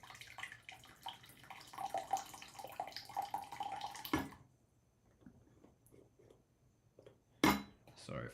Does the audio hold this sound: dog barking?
no